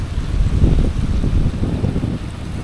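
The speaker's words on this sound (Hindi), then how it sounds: "और ये आ रहा है ऊपर से पानी" Mountain water streams down a steep slope beside a high-altitude Himalayan highway road, a steady close rushing wash with wind buffeting the microphone and no talk.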